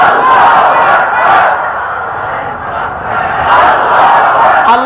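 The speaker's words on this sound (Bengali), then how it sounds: "মুসলমানের জীবনে শ্রেষ্ঠ স্লোগান নারে তাকবীর" A large crowd at a Bengali Islamic sermon by Maulana Delowar Hossain Saidi roars back in unison to the takbir slogan call, a loud, sustained massed shout that swells and dips over several seconds.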